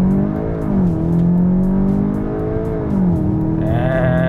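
A 2022 Volkswagen Arteon R-Line 4Motion facelift launches hard from a standstill with launch control, the engine revving loud and steady through rising gear pulls with a brief shift dip, heard from inside the cabin.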